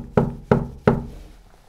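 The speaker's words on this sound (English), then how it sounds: "Come and knock on this door for me." Three evenly spaced knocks on a door, sharp and close, each fading quickly in the quiet room.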